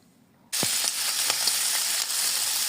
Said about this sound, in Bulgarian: Пържим октопода за 2-3 минутки от всяка страна до зачервяване